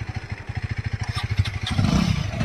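A Husqvarna Svartpilen 250 motorcycle ridden off-road on a rough road, its engine thumping in a steady, rapid pulse up close, then rising into a louder rumble with added clatter at the end.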